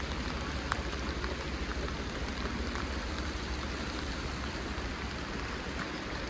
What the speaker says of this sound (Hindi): बारिश भाई यहाँ पे होती रहती है कंटिन्यू